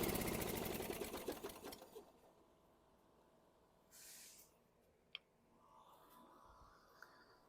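A 1998 Murray riding mower on full choke cranks with a fast, loud mechanical rattle that fires briefly, then fades over about two seconds into quiet, broken by a short hiss and a couple of sharp clicks.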